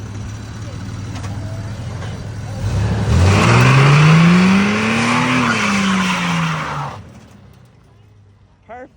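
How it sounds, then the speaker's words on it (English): A shop truck doing a burnout: the engine revs up hard and the tires squeal in a long rising and falling skid for several seconds, loud and close, then cuts off abruptly. "We'll do a good burnout."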